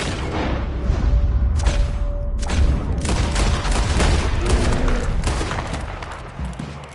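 Gunfire in Red Dead Redemption 2: a dense volley of overlapping shots and booming reports carries on continuously and loudly for several seconds, with no talk over it.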